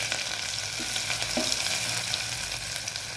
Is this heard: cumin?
yes